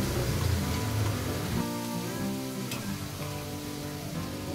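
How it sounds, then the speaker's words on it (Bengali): Ground spice paste dropped into hot oil, with a sudden loud sizzle and crackle of frying that stays dense and steady, close by and alone without talk. "এবারে তেলের মধ্যে আগের থেকে পেস্ট করা মশলাটা দিয়ে দিচ্ছি।"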